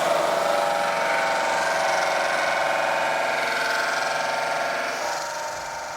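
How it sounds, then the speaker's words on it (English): A power drill runs continuously in a workshop, making a loud, steady whirring grind that holds for several seconds before easing slightly toward the end. "With the drilling taking several eternities at once, Shaun needs to think ahead."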